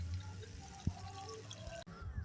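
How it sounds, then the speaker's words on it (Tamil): Water is poured into a pan of cluster beans already sautéed in oil with asafoetida for a village-style thokku, giving a soft, faint trickle and splash with a brief clunk partway through. "தண்ணி ஊற்றிக்கலாம்."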